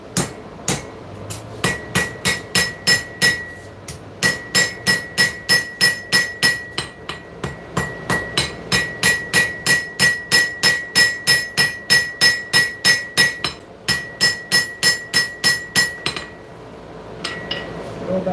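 Rhythmic, loud ringing hammer blows on an anvil while forging a horseshoe, struck in quick steady bursts of ringing metallic clangs with short pauses between series, close and clear.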